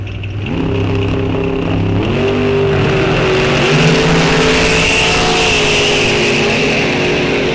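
Drag racing cars at an NHRA state championship at Rock Falls Raceway roar loudly and steadily as they accelerate down the strip, engine pitch climbing in stepped gear changes, close and dominating throughout.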